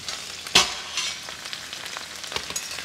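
Okra and potato curry stirred gently in a pan over a medium flame, a few soft scraping strokes over a faint, steady sizzle.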